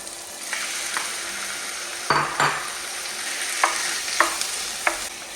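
Meat sizzles with onions in a pan for a Toulouse cassoulet, a steady frying hiss with scattered scrapes and clinks of a utensil stirring against the pan, close up and without speech.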